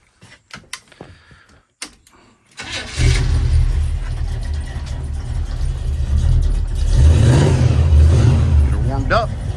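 A Chevy/GMC square body truck that has been sitting for a week is heard starting up: a few clicks and knocks, then the engine turns over, catches and settles into a loud, steady, rumbling idle close by.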